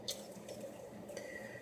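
Soapy water trickles and drips as a cleaned makeup brush is wrung out, a few soft, close, quiet splashes in a brief burst.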